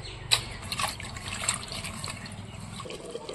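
Tap water running and splashing while fresh bay leaves are rinsed by hand in a kitchen, a steady close trickle with small splashes and no talking.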